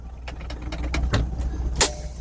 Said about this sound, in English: The best sound in the world when we pop them brakes.